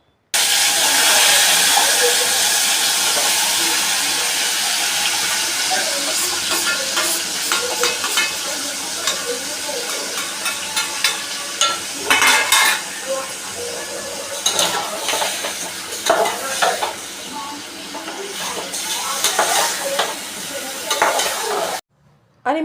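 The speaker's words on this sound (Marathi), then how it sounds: "मॅरिनेट झालेलं चिकन जे आहे ते मी तेलामध्ये टाकलं" Marinated chicken fries in hot oil with a loud, continuous hiss and sizzle that fades slightly over time, broken by occasional stirring clinks, and cuts off sharply near the end.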